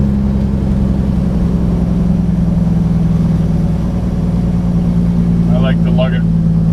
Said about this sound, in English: I like to lug it right down, and that way you know the shift's going to go in.